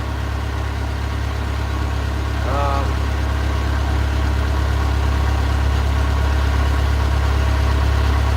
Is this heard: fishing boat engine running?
yes